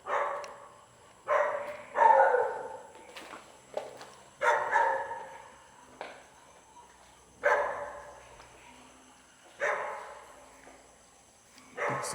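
A dog barks in separate bursts at night near an abandoned school, about eight of them spaced a second or two apart, moderately distant and otherwise quiet between barks.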